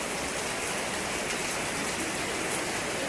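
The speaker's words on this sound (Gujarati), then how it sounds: "ખૂબ જ વરસાદ આવે છે." Heavy, steady rain pours down in a dense, unbroken hiss on surfaces nearby, loud and even throughout, with no voices over it.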